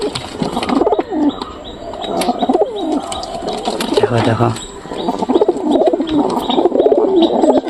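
Pigeons in a loft coo in repeated low, throaty bursts at close range, mixed with soft chirps and a brief flutter of wings, while someone talks over them.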